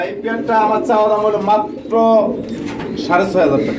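Pouter pigeons coo in a series of close, moderately loud throaty calls, overlapping and repeating in bursts, with a few chirpy notes between phrases.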